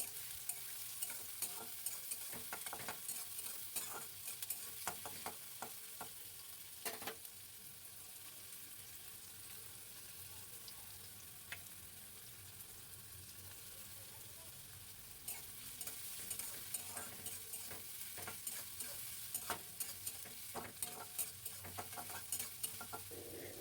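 Chopped onion, ginger, garlic and chili fry in hot oil with a continuous crackling sizzle, stirred throughout with scattered scraping taps, steady and close without any voices.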